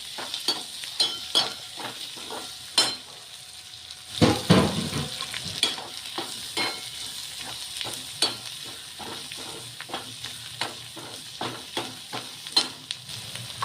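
Fenugreek greens and pigeon pea thecha, with onion and crushed ingredients, are stirred in a frying pan, giving repeated scraping strokes and clinks of the spoon over a soft sizzle, with one louder clatter midway.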